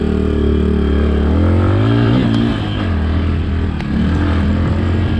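Suzuki DR200 dual-sport motorcycle engine loud and close while riding offroad through a tight section in first gear, with revs rising and falling in a steady single-cylinder drone and mechanical clatter.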